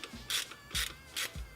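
A ratchet turns a 1/4 inch stud while fitting an attachment on a car being readied for a track event, giving three separate bursts of clicking at a steady, unhurried pace, close and clear with no voices.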